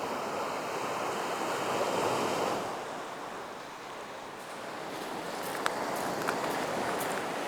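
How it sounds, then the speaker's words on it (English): Surf rolls onto the beach at Wineglass Bay on the Freycinet Peninsula, a continuous loud wash of breaking waves that swells and eases, with light wind buffeting and a few faint clicks. "Good to be on the beach."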